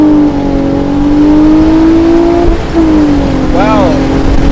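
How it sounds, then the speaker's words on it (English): A Honda Accord V6 with an aggressive aftermarket exhaust pulls hard through first gear, its rising drone loud and close before a brief dip at the shift, then continuing while a person talks over the end. "Man, I love the sound. It sounds very similar to a VQ."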